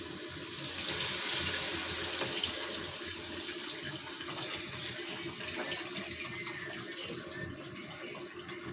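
Tap water runs steadily into a sink while dried fish is rinsed for a tamarind curry, a continuous close splashing stream with no talking.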